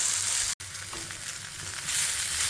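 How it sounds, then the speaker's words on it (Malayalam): Brinjal (eggplant) slices fry in a pan over a low flame, giving a steady, close broadband sizzle with one abrupt brief dropout near the start and no voices. "ഇതേപോലെ പാനി തുടർന്ന് നല്ലതായിട്ട് ഫ്രൈ ആയാൽ മാത്രം മതി."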